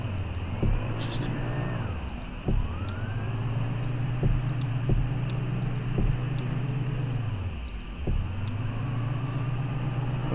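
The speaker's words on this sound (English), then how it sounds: "The truck pulls up to a house with intensely bright porch light." A truck in the game Kentucky Route Zero idles with a steady low engine rumble, its pitch dipping and rising as it rolls up to a house, with a faint high electrical hum above it throughout.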